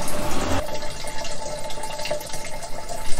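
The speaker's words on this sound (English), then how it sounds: "I think we found the world's slowest water point." Water runs steadily from a tap at a roadside water point in Provence, a continuous close hiss and splash filling a container, with no talk.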